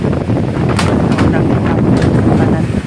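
Strong typhoon wind roars steadily and loudly against the microphone near a storm-damaged house whose roof was torn off, a continuous buffeting rush with voices talking underneath.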